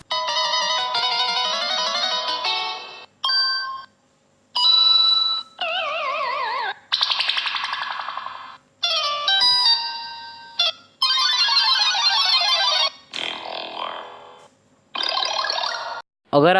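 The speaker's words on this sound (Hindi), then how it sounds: "मैं आपको कुछ टोन प्ले करके बताऊँगा।" A string of phone ringtones plays one after another, each a short loud electronic melody or chime followed by a brief silence before the next.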